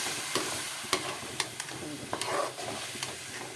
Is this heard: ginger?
yes